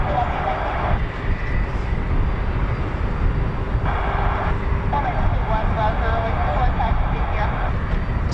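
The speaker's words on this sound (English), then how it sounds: "Somebody's taxiing." Military jet taxiing at RAF Lakenheath, a USAF base home to F-15 and F-35 fighters: a steady, continuous engine roar and whine held at a distance throughout, with faint voices chatting over it.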